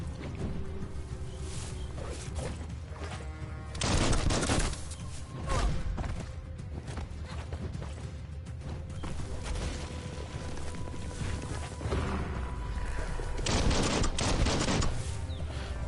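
Gunfire in the video game Biomutant comes in several bursts of loud, booming shots separated by quieter stretches of in-game ambience.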